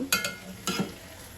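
A potato and flat-bean fry is stirred in a pan, with two quick scraping strokes over a faint, low sizzle, close and short.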